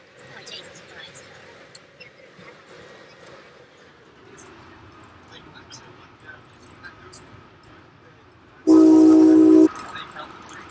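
Inside a moving passenger train, a low steady rumble of the carriage runs under a person's talk, then a loud, sustained horn-like tone blares for about a second near the end.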